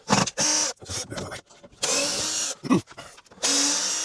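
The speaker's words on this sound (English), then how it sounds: "I've got my power drill to undo these screws here" A handheld power drill undoes screws in bathroom work, several short whirring bursts separated by gaps, with a brief stall and a longer run at the end.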